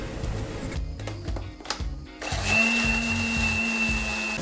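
A blender grinds spices with oil, whirring loudly nearby, starting in short choppy pulses, then running in a steady high-pitched grinding whine.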